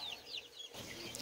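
Chickens clucking outdoors on a farm, soft scattered clucks and chirpy calls at moderate distance, quiet with light background noise.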